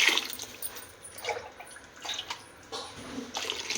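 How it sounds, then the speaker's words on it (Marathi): Water pours into a pan of village-style Marathi bhaji, giving a soft, steady splashing wash with a few brighter bursts, close and continuous with no talk. "आता याच्यात आपण थोडं पाणी घालून घेऊ"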